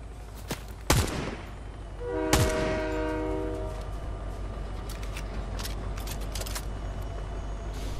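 In Fortnite, an approaching train's horn sounds as a sustained multi-tone blare, preceded by two sharp gunshot-like cracks and followed by a steady rolling rumble with scattered clicks.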